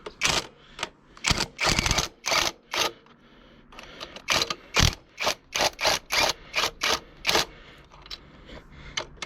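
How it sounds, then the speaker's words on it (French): Impact wrench spinning a bolt loose on a Renault 1.5 dCi engine during a timing belt job, firing in a rapid series of loud, sharp bursts with short gaps, close up and free of talk. "je peux y aller à la clé à choc"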